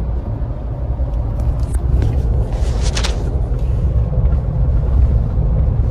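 A Mahindra Thar on 22-inch alloy wheels cruises along a highway, giving a constant loud low rumble of road and engine noise from inside the cabin, with brief rattling bursts partway through.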